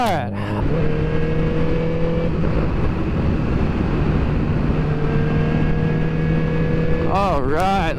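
A Honda CBR1000RR motorcycle engine drones loudly and continuously while riding on the road near Watauga Lake, heard close from the rider's position with wind rush, and a voice speaks briefly near the end.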